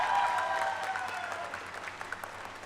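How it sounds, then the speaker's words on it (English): Audience applause at a university convocation for graduating planning degree recipients, steady clapping that gradually thins and fades, with a lingering tonal ring at the start. "All of you may please applaud for the degree recipients of Bachelor of Planning degrees"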